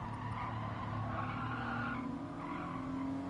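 A race car braking hard and skidding in the Gran Turismo Sport video game, with sustained tire squeal over a droning engine, loud and continuous with no talk.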